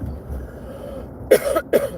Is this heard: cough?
yes